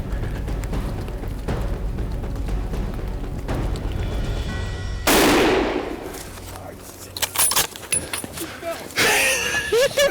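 A deer hunter fires a single loud, close gunshot at a buck, after a stretch of quiet outdoor background and low talk, with voices following the shot.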